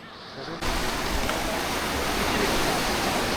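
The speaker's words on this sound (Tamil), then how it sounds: "கடல் தண்ணி வந்து அதில் அலை மாதிரி அடிச்சு கொண்டு இருக்குது" Sea surf on a beach at Mirissa, Sri Lanka, rushes in as a sudden, steady roar of washing water, close and loud, with no voices over it.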